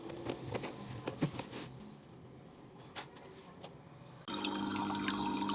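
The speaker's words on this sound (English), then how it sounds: "Then I drain out the water because I used it for dark color." Water gushes out of a semi-automatic washing machine after a dark-colour wash, a steady rushing flow that swells suddenly louder near the end, preceded by softer splashing and handling sounds.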